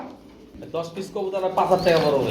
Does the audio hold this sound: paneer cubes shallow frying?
no